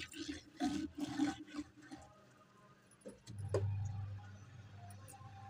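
Fresh coriander and mint leaves being washed in water in a bowl, with faint splashing and swishing followed by a low running-water rush near the end.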